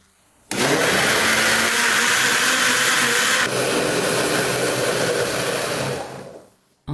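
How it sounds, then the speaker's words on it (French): A blender whirs loudly as it mixes stale bread with 800 g of sweetened condensed milk, a steady dense motor roar running about six seconds, its pitch shifting midway as the load thickens, then cutting off. "Maintenant, on met le couvercle et on mixe."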